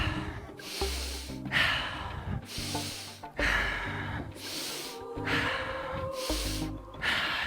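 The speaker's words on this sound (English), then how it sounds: "breathe in deeper, letting it go on exhale slower." Deep, slow breathing cycles during a guided breathwork exercise, each long inhale and exhale rising and falling in a steady rhythm, close and fairly loud over low background music.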